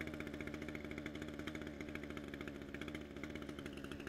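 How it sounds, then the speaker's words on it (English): A small engine idles steadily at close range while its rotary carburetor is being adjusted. It runs with a fast, even putter and a faint buzzing overtone, and it stays alone without talk throughout. "Bring that engine idle speed up until the head starts to rotate."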